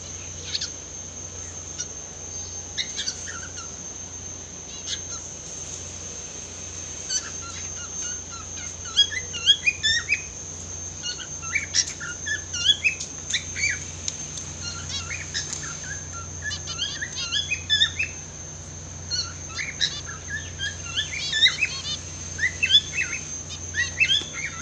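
Chicks and quail chirp continuously while eating millet in a cage, with many high, quick peeps in a busy irregular rhythm over a steady insect-like hum and no talking.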